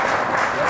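Short burst of steady applause from a Christmas concert audience in Manchester or Birmingham, a dense even patter of many clapping hands at fairly high level.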